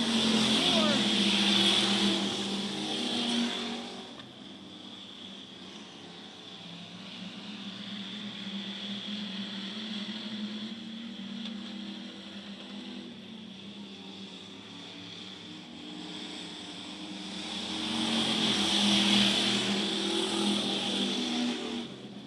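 Topless modified race cars roar around Charleston Speedway, engines swelling loud as the pack passes, fading to a steady distant drone mid-lap, then surging again near the end.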